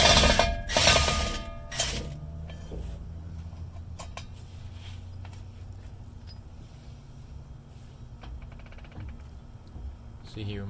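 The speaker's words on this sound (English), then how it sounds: "there's 4 bolts on the rear of the drive shaft that we're removing" A ratchet works the rear drive shaft bolts under a 1994–2004 Chevy S10 pickup, with a burst of clattering at the start, then faint metallic clicks and scrapes over a low hum, while someone speaks.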